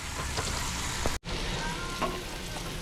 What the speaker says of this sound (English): I love to get some sauteed onions going